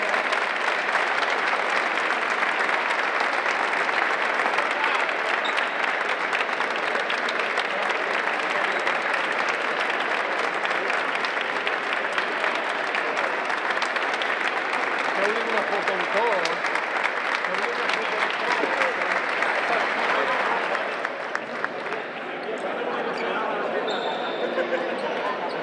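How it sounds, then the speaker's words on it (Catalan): Strong, sustained applause fills a pelota trinquet during a tribute to Rosita del Trinquet, a thick roar of many clapping hands lasting about twenty seconds before dropping abruptly to a quieter murmur. "Un fort aplaudiment, per favor"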